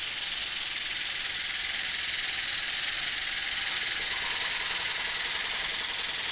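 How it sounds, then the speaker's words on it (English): A shop air compressor running to power an air ram on a shop crane: a loud, steady, unbroken airy hiss that holds constant throughout with no speech. "My air compressor just kicked in."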